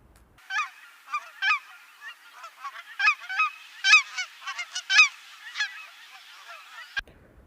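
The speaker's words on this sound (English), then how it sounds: "cackling geese have a higher pitched call than Canada geese" Cackling geese calling in a rapid series of high-pitched honks, with many overlapping bursts at close range and no other sounds, ending abruptly.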